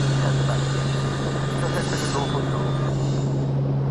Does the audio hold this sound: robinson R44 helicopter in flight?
yes